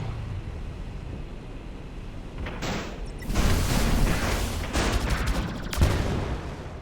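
Smart gun and missile fire in the space video game Project Genesis: a few seconds of quiet, then dense, overlapping blasts and rattling impacts that swell loudly and keep churning.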